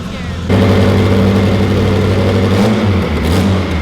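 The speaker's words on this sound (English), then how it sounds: "Probably can't hear me right now because this car is loud as hell" A 1000whp Mitsubishi Evo 9 running 48 psi boost revs hard close up, a loud droning engine note with strong harmonics that kicks in abruptly and holds steady, with speech faintly underneath.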